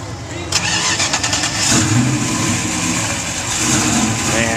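A cammed 1992 Ford Mustang 5.0 LX coupe V8 engine revs loudly and roughly up close, with a choppy idle between blips, while people talk over it.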